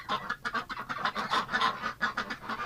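Ducks kept in a winter pen call with repeated nasal honks and quacks, several birds overlapping in an uneven run of short bursts, fairly close and moderately loud with no talking.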